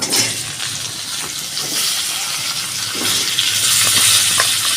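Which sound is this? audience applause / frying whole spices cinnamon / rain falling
frying whole spices cinnamon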